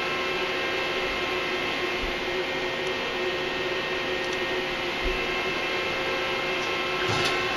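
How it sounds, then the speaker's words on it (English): Mazak QuickTurn lathe powering up, its hydraulic system running as a steady broadband hum and hiss with a faint high whine, constant and fairly quiet, with a few faint clicks. "you'll hear the hydraulic system start and the work light inside the casing come on"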